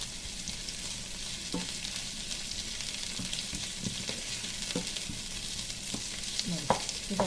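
Mutton masala sizzles and fries steadily in a pan, a dense continuous crackle with occasional louder spatters and stirring scrapes, close and alone without talk.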